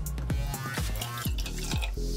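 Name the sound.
water and borax being mixed for slime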